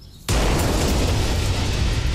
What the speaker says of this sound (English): Actual explosion.